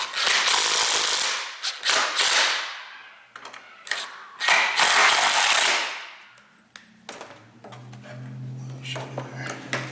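Coarse self-threading screws are driven into the wiper motor unit of a Grand Marquis or Crown Victoria. Several loud, rough bursts rise and fade in turn, then give way to quieter scattered clicks and rattles.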